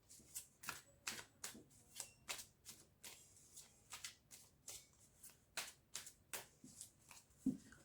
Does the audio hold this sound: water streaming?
no